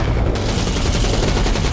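Machine guns fire continuously in a movie battle scene set in a canyon, a dense, loud, sustained roar of rapid shots with booming low end and no pauses.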